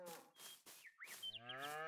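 Angus cows in the Farming Simulator 22 video game give several short, close, clear moos in quick succession, with no other sound.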